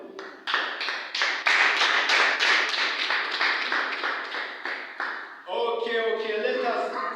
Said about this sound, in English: Everybody clap for them.